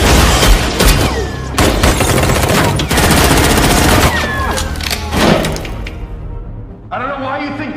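Loud, dense bursts of automatic and single gunfire crack through a movie shootout between former soldiers and an armed criminal crew, with impacts and a shattering thump mixed in, while a narrator talks over the action.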